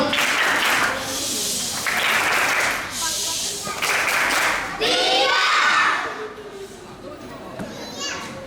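Children at a Sunday school celebration clap in short rhythmic bursts of the 'tepuk diam' routine, loud and close, broken by gaps, with children's voices and chatter through the bursts.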